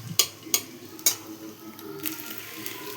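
Whole garam masala, cumin, bay leaves and dried chilli dropped into hot oil over fried onions, giving a soft sizzle with three sharp clinks of a utensil against the pan early on, fairly quiet and close.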